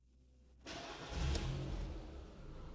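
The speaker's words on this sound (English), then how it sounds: "Now start the engine." A car with a 4-speed automatic gearbox undergoing a transmission oil change starts up with a brief crank, then settles into a steady idle that swells slightly before easing off, fairly quiet and with no speech.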